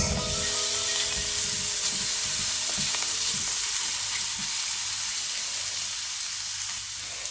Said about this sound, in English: To brown the tofu, heat a non-stick pan over medium-high heat.